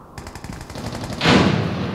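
Automatic weapon fire in the video game America's Army: Proving Ground, a rapid burst of evenly spaced shots followed by a louder, denser blast of gunfire, close and sharp.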